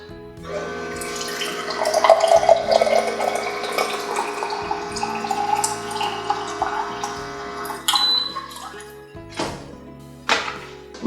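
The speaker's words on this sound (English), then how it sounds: "After selecting the glass size to dispense water," A Frizzlife reverse osmosis countertop water filter dispenses water into a glass, a continuous pouring stream with electronic beeps and clicks near the end, heard clearly up close.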